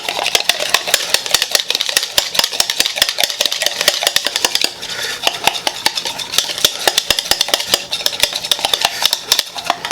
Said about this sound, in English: we're gonna whisk this stuff together